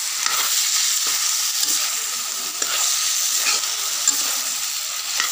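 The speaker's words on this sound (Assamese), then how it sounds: "এতিয়া মই ভালদৰে লৰাই দিম কোমোৰা আলুখিনি দি।" Pumpkin and potato pieces are stirred in a hot pan, with a continuous sizzle broken by repeated short scraping strokes, heard close and fairly loud.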